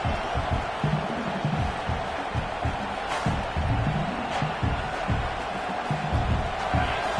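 Football stadium crowd at a USC versus UCLA college game: a steady, dense roar of many voices filling the background, loud and constant throughout, with no clear individual speech standing out.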